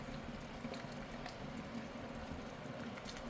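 A pot of kimchi stew (kimchi jjigae) boils on the stove, giving off a steady, even bubbling hiss and simmer that runs on without a break, with no voices over it.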